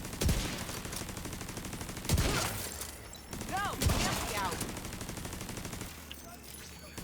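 Light machine gun fire in a video game, a steady rapid stream of shots with louder punchy impacts every couple of seconds, under a voice talking throughout.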